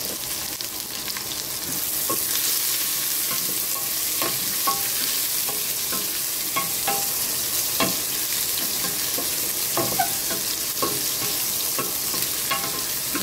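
Ginger and onion sautéing in oil for ginisang mongo, a steady sizzle punctuated by repeated sharp scrapes and clicks of a utensil stirring the pan, close and alone.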